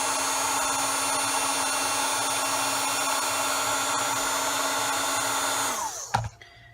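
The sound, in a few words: heat tool melting embossing powder on beads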